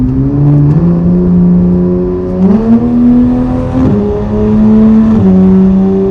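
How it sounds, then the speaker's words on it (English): Exhaust of a 991-generation Porsche 911 GT3 on the road. It gives a loud, continuous engine drone whose pitch climbs and drops several times as the car accelerates and shifts. "it is a loud car. Don't get me wrong with that. Like, you can hear that exhaust."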